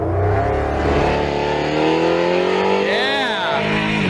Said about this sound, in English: our very first nitrous pass